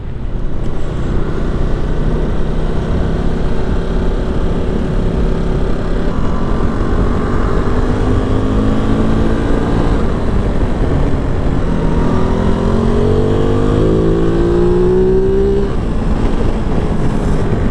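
A Ducati Multistrada V2S motorcycle engine pulls at half throttle through quick-shifter gear changes, a steady loud drone with rising engine tones stepping up after each shift, alone without talk.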